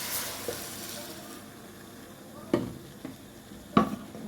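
Tomatoes fry with small pieces of meat in a pan for a green okra stew, a quiet continuous sizzle broken by a few sharp clacks of a stirring spoon against the pan.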